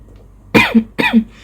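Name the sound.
coughing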